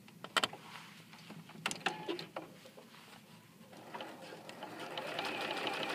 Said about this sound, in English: So you start by sewing.